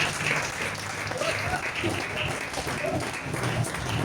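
A church congregation applauds in a steady, dense wash of many hands clapping together, sustained at an even level throughout, with a voice faintly audible beneath it.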